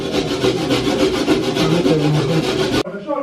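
Coconut being grated by hand on a grater in a Jamaican kitchen: fast, rhythmic scraping strokes, loud and close, running continuously before stopping abruptly near the end.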